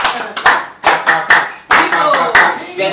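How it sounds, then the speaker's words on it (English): Training participants at an agricultural extension session clap for themselves, with bursts of hand claps coming in uneven waves, loud and close, and some voices mixed in. "let's clap for ourselves"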